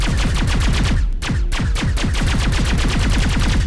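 Continuous rapid automatic gunfire in the Mass Effect video game, loud and close, a steady stream of evenly spaced shots with one brief pause.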